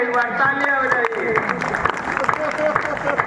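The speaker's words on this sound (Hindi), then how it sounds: "एक बार तालियां बजाइए।" An audience at a 2023 kavi sammelan poetry gathering in Maholi claps steadily beneath a voice that keeps talking over the applause.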